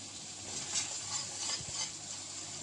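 Prawns frying in oil in a pan for a Bengali prawn malai curry, giving a steady close sizzle with soft stirring scrapes throughout.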